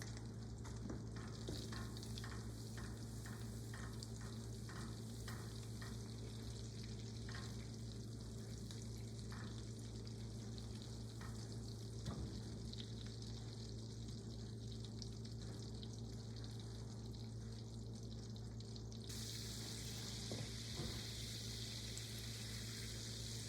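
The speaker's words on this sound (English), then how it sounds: "Cooking butter." Butter frying in a pan gives a quiet, steady sizzle with faint crackles throughout, alone and unhurried, under a low constant background hum.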